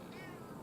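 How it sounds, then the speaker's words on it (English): A cat gives a single faint, drawn-out meow, heard softly behind a quiet background hum, with a short bump at the very end. "there's a cat"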